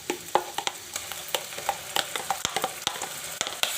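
Ground tomato paste hits hot frying masala and crackles loudly, with irregular sputtering pops and stirring scrapes up close over a steady sizzle, no voices.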